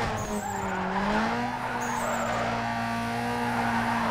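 A car drifting in Need for Speed Underground 2, with a long, loud tire squeal running over a steady engine drone for the whole stretch and no talking.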